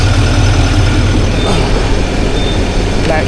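A 6.6-liter Duramax diesel engine in a 2025 Chevy Silverado 2500HD Z71 idles with a steady, loud, low rumble that stays continuous and close throughout.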